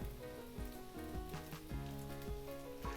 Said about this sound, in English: Now we're going to fry this for a few seconds.